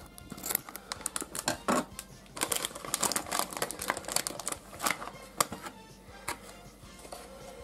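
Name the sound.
opening a bag of baseball chips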